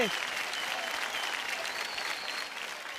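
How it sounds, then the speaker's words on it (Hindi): An awards show audience breaks into loud, sustained applause, a dense crowd of clapping that holds steady for the whole stretch. "जोरदार तालियां हमारे दोनों सुपरस्टार्स के लिए।"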